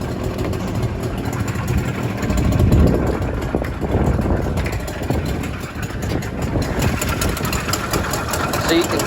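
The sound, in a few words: car engine running under the hood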